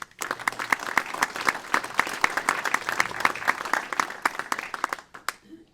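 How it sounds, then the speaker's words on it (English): Audience applause at the 2020 State of the Town of Cheektowaga address: a dense, steady burst of many hands clapping that holds for several seconds, then tapers off and stops abruptly, with no talking over it. "Give yourselves a round of applause."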